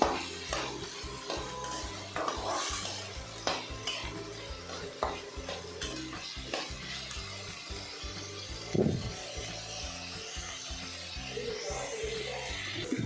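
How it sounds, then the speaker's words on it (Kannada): Cooked beans stirred and fried in a pan, with a spoon scraping and clinking steadily over a continuous low sizzle, close up and with no talking. "ಇದನ್ನು ಚೆನ್ನಾಗಿ ಮಿಕ್ಸ್ ಮಾಡಿಕೊಂಡು ಒಂದು 2 ನಿಮಿಷ ಫ್ರೈ ಮಾಡ್ಕೊಳ್ಳೋಣ"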